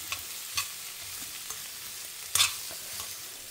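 Grated coconut and chayote sauté in a pan with a soft, steady sizzle, broken by a few scraping stirs, one sharper clatter near the middle, quiet and close.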